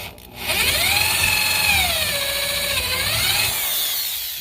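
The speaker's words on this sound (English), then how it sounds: "And then I drill through the table." A power drill bores pinholes through wooden handle scales clamped on a bench during a machete restoration, its motor whine dipping and recovering under load in a close, steady run with no voices.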